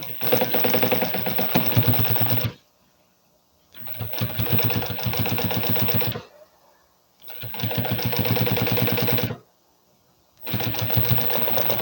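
A sewing machine stitches a handbag seam in four loud, close bursts of rapid mechanical whirring, each about two seconds long and separated by short silent pauses.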